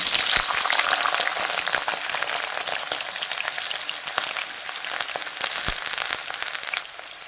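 Potatoes sizzling steadily in hot mustard oil in a pan, a loud continuous crackling fry with scattered sharper spits and pops, close and unbroken throughout.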